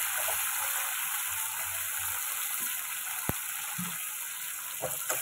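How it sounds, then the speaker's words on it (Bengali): Ground spice paste sautéing in a pan in a home kitchen: a steady, soft, continuous sizzle with a few faint stirring scrapes and taps. "এই যে ভালো মতো এবার এটা কষিয়ে নিচ্ছি আমি।"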